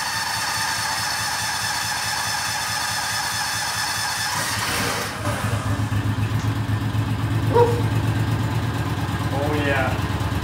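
A small golf cart engine runs with a fast, steady chugging idle, then briefly dips and picks back up louder and rougher, close to the microphone; a person talks over it.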